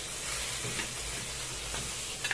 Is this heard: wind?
no